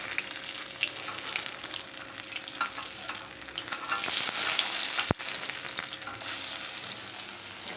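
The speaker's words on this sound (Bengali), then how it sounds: "দেখুন মাছগুলো কিন্তু আমার খুব ভালো করে ভাজা হয়ে গেছে।" Pabda fish sizzle and crackle in hot oil in a pan, a loud, continuous frying hiss with one sharp clatter partway through and no voices.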